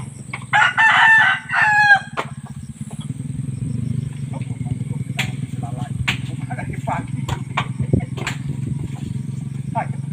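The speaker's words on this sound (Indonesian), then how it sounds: "Ada ayam juga." A rooster crows loudly once nearby near the start, then low rumbling outdoor noise continues with scattered clucks and clicks.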